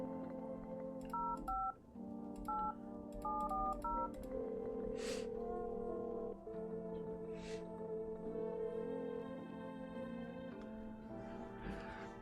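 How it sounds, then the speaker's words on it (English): Touch-tone keypad beeps from a phone being dialed in the video game No, I'm Not a Human, a quick burst of paired-tone presses followed by a sustained ringing tone over a steady musical game background. "Alright, let's go on the phone now."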